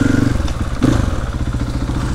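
Car wash equipment runs in a neighbouring wash bay, a loud, close, rhythmic mechanical rumble with rattling clatter that carries on throughout.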